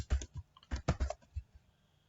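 Keys clatter on a computer keyboard as code is typed, about ten close, uneven clicks in quick bursts, then the sound tails off into quiet.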